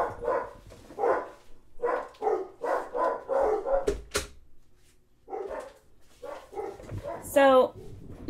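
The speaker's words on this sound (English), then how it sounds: "Sorry about the doggies." Several dogs bark in bursts in the background while a person talks steadily over them, ending with a high yelp or whine.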